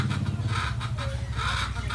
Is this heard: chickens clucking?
yes